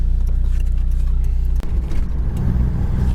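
A turbocharged WLT 2.5 diesel running on 19 pounds of boost with the fuel screw turned up, driving with a steady low drone and brief dip partway, then continuing at a rough, throbbing rumble close by.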